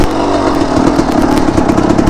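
A dirt bike engine revs hard and buzzes continuously as the rider works the clutch and shifts up into second gear. The engine note is rough and close, with no talking over it.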